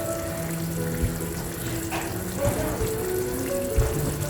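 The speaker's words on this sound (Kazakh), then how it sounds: "Спагеттиімізді қайнап жатыр." Spaghetti boils in a pot of water on a stove, a soft continuous bubbling and simmering hiss with occasional faint clinks, fairly quiet and close.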